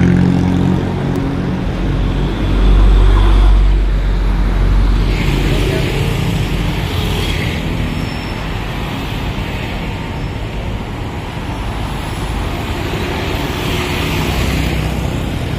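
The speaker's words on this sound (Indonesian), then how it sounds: "Kedatangan bus keren lagi nih, mantap." A bus pulls in amid steady traffic noise at a busy city spot in Bandung, its engine rumble building loudly in the first seconds and then settling into a continuous drone, with voices in the background.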